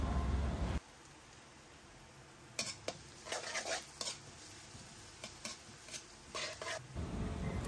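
Garlic and onion sautéing in cooking oil in a wok for Bicol Express, a faint steady sizzle broken by scraping stirs and clinks of a utensil against the pan.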